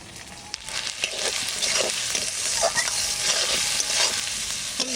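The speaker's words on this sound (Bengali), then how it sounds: "সুন্দর করে কষিয়ে নেব" Ginger, chilli, turmeric and salt being stir-fried with snakehead fish in a pan, a steady close sizzle with scraping stirs throughout, no talking.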